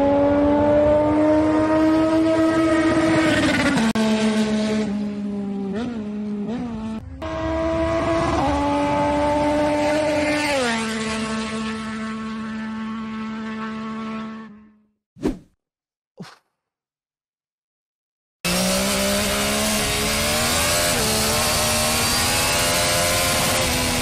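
Yamaha MT-09 motorcycles accelerating hard, the engine note climbing through gears with short dips at shifts. The roar cuts off abruptly, leaving brief silence and a couple of sharp bursts, then another loud engine stretch returns.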